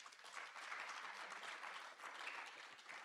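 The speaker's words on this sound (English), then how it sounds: "Clap yourselves again." Honorees at the JTA Golden Torch Awards ceremony applaud themselves, a faint, distant but continuous patter of many hands clapping that holds steady for a few seconds.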